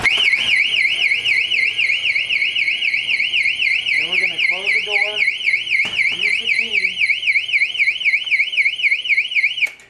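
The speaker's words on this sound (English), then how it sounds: "unlocking the door and making the alarm sound." A door exit alarm, triggered by pushing the door's bar, wails in a loud, continuous, steady electronic warble throughout, with brief faint voices and clatter underneath.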